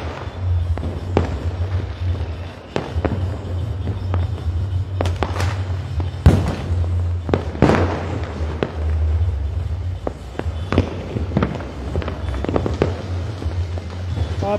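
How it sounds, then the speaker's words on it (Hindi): Diwali fireworks crackle and bang repeatedly over a steady low rumble of crowd noise in Una, India, with several sharp, loud bursts spaced irregularly throughout. "पूरा आसमान जो धुएं से भर चुका है और पटाखों की गूंज है"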